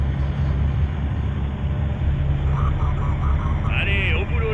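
An enemy airplane on a tarmac in the Call of Duty: Modern Warfare 3 (2023) campaign produces a loud, steady engine roar and rumble, with a brief higher whine near the end.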